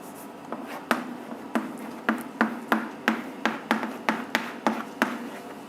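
Chalk tapping and scratching on a lecture-hall board, a steady run of about a dozen crisp knocks spaced roughly half a second apart, close and fairly clear, with no talking.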